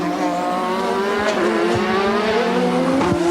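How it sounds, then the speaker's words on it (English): A 1980s Brabham BMW turbo Formula One car driven by Riccardo Patrese in Australian Grand Prix qualifying, a loud steady engine howl with shifting pitch sweeps, close and continuous with no talk. "And there's Riccardo Patrese in the Brabham BMW."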